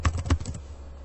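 A few quick computer keyboard keystrokes while entering a username and password, three or four soft close taps in rapid succession that then fade to quiet.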